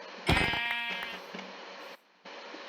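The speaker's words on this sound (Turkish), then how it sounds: "Ya aşağıda da koyunlar varmış ama." A sheep bleats once in the video game Minecraft, a clear wavering cry over a constant game background hum.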